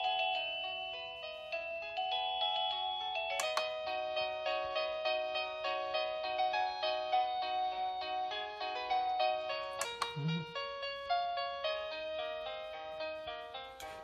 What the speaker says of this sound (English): you can choose whatever ringtone you like.